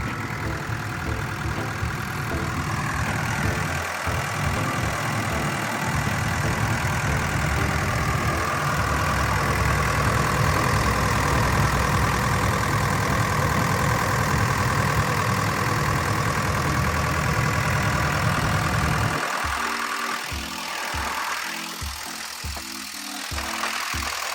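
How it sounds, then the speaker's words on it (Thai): Kobelco SK75SR-3 seven-ton excavator with an Isuzu 4LE2 turbo diesel, idling steadily and up close for most of the stretch; near the end a nearer chugging rhythm of pulses breaks in. "เสียงเครื่องทำงาน เงียบมากนะครับ แล้วก็ทำงานแน่นๆปกติดีเลยนะครับ"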